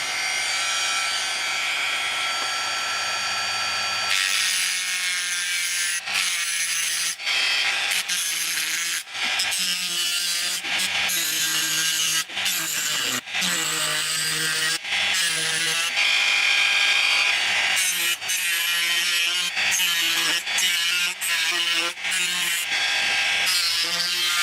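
A cutting wheel grinds into a titanium pacemaker casing with a loud, continuous high-pitched screech. The pitch wavers and drops out briefly as the wheel bites and lifts, close up and without speech.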